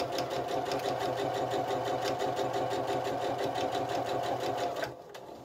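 A sewing machine stitches fabric for a Christmas stocking in a steady, loud, continuous whir with a rapid mechanical pulse, close by, stopping abruptly near the end.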